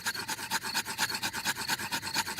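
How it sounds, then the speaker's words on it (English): Two wooden sticks are rubbed quickly back and forth to light a campfire, a close, rhythmic rasping scrape repeating about six times a second in even strokes. "Daddy Pig is rubbing the two sticks together to light the campfire."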